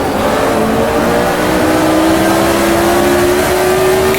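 A 1978 Formula 1 race car engine in a racing game screams loudly and continuously, its high-pitched note climbing steadily as the car comes over a hill into the final corner.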